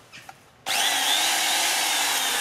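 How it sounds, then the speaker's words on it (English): A handheld power drill is switched on and runs steadily at full speed with a high, even whine after a brief pause, loud and close with no talking. "let's just see if this drill works."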